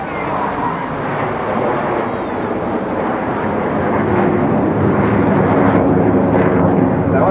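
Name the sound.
Red Arrows jet aircraft flying in formation at an airshow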